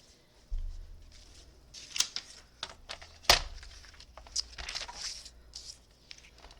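Vellum for cardmaking is cut close up in a series of scattered, quiet snips and paper rustles with sharper ticks in between, and there is no talking.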